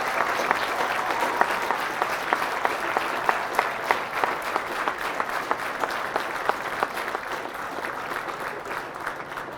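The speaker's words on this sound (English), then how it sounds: "Ladies and gentlemen, a round of applause for their dedicated service to Corps and country." An audience at a Marine Corps recruit graduation ceremony applauds in sustained, even clapping, a dense crowd sound with distinct sharp claps standing out, heard at moderate distance without speech.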